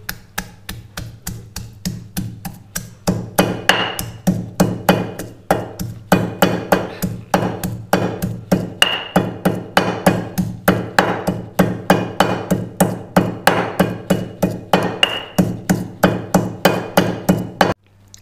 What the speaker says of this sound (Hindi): अब ये 2 जोवे लहसुन के लेने हैं, ये इसमें अच्छी तरह कूटने हैं।